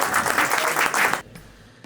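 Audience applause at a Yalda night concert in Britain, a dense, loud burst of clapping that fills the first second before cutting off into near silence.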